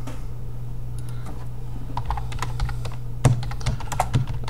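Typing on a computer keyboard: a steady run of quick, close key clicks with a few louder strikes, all over a constant low hum.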